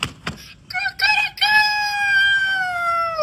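A rooster crows once, loud and close, its long drawn-out call sliding slowly downward after a few short, choppy opening notes.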